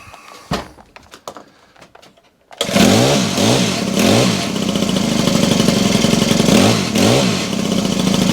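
A small Honda HHH25 engine sputters to life after some clanking, then runs loudly and roughly with rising and falling revs.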